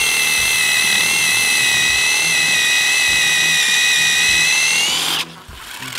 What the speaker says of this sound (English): If you want to drill all the way through this tap